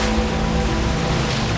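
Ocean surf washes ice chunks up onto a shore, a steady loud roar of waves with low rumble and broadband wash continuing throughout, no voices.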